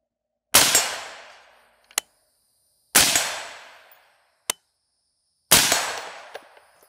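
Rifle fired through a Nikon Black Force X1000 scope at steel targets, three loud sharp shots each followed by a fading echo and a faint distant metallic ping of a hit, with no talking.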